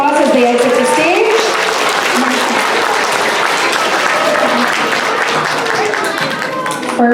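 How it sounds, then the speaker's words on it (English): An audience at a school honor roll ceremony applauds loudly as a row of students leaves the stage, a thick, continuous burst of clapping that holds steady throughout. "let's give this second row a big round of applause as they exit the stage."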